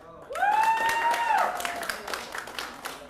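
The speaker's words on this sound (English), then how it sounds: "you're supposed to clap at that part" Audience applause at a comedy show in a small theater swells quickly and then fades, with a loud voice calling out over the start of the clapping.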